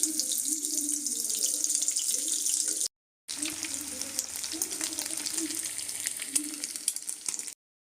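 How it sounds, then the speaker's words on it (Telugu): Pieces of steamed egg deep-fry in hot oil, a steady close sizzle and bubbling that runs almost without pause, broken once by a brief silence before the frying resumes. "ఇప్పుడు కట్ చేసిన పీసెస్ ఒక్కొక్కటి వేసుకొని బాగా ఫ్రై చేసుకుందాం, మాయిశ్చర్ అంతా వెళ్ళిపోవడానికి."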